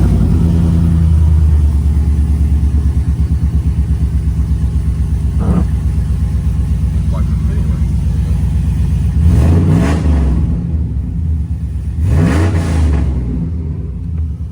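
A rebuilt Chevy Silverado engine fitted with new long tube headers rumbles at a loud, steady idle close by, then revs sharply twice near the end, each rev rising and falling.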